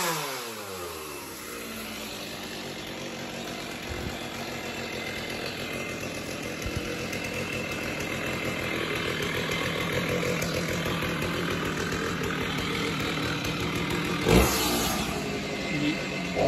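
Chainsaw cutting down a backyard tree, its engine droning steadily and rising in pitch as it bites, loud and continuous with a sharp knock near the end.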